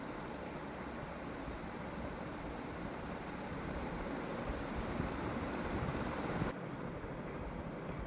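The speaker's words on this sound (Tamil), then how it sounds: "இப்போ சிக்கன்லாம் போட்டு இப்போ நல்லா ஃப்ரை பண்ணிக்கலாம்." Half a kilo of chicken fries in masala for a parotta-style salna, giving a dense, even sizzle that holds steady and fairly loud throughout.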